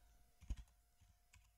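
Light computer keyboard typing, a few soft clustered keystrokes heard faintly in a quiet room.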